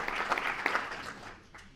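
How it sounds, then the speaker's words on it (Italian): An audience at a theatre festival in Padova gives a brief round of applause in an indoor hall. The clapping is fairly quiet and fades away within about two seconds. "Un applauso anche a lei."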